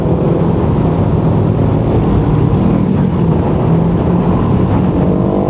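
A Yamaha Lexi 155 scooter rides through dense traffic with a constant loud engine drone and heavy wind rumble, steady throughout with no talking.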